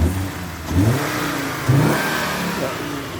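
A Volvo V50 engine heard from the front revs up in two short bursts, each a rising mid-pitched surge that eases back to a smooth idle.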